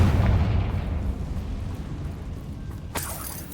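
A Confringo fire spell explodes in Hogwarts Legacy, a dull low boom and rumble that fades, followed near the end by a sharp bright crackling burst.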